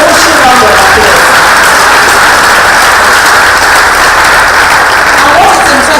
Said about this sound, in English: A round of applause. A rushing round of applause.